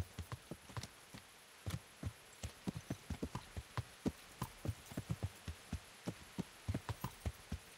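Horse hooves clip-clop steadily in the video game Kingdom Come: Deliverance as the horse travels toward a farmstead, a soft, regular train of dull thuds over a faint hum with no talking.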